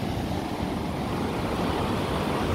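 Fairly high ocean waves wash onto a private beach in a steady, close roar of surf and spray, with no speech.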